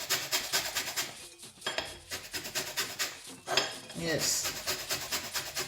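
Watermelon rind is rubbed against a kitchen grater for zest, giving rhythmic scraping strokes in short bursts with brief pauses. A voice says a single word.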